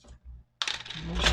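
Small metal screws from a Mamod toy steam engine under restoration clatter onto a hard surface, a sharp rattling spill after a couple of soft taps and a brief silence, close and fairly loud.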